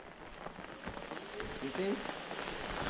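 Heavy rain with large raindrops falling outdoors beside a house under construction, a dense, steady hiss and patter of drops on surfaces, fairly faint overall, with a voice faintly present.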